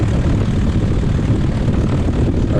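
A small propeller airplane taxis, its engine droning loud and steady at close range with no break, alone without talk.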